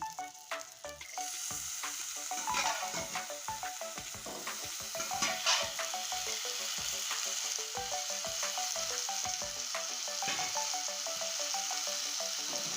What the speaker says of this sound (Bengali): এবার এই কচু শাকটাও ছেড়ে দিচ্ছি দেখুন